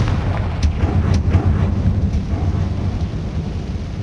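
Confringo blasting spell explosion in Hogwarts Legacy, a deep rumbling boom that rolls on for several seconds with sharp crackles early on, loud and continuous without speech.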